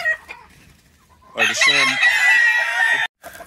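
A rooster crows once loud and close, among chickens in a farmyard flock, while other hens cluck. A short word or two of speech is faintly heard before the crow.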